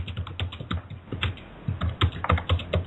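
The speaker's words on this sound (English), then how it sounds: "please mute if you're going to be banging on a keyboard, because it's really loud on my end" Rapid, loud typing on a computer keyboard coming through a conference call line, with dense irregular clatter of keystrokes throughout and no voices.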